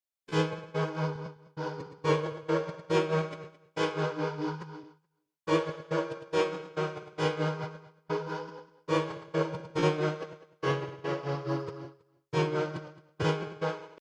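A UK drill-style beat melody plays in rhythmic choppy phrases with a pitch effect added, bright and tonal, loud and close, with short gaps between the repeating bursts and no talking.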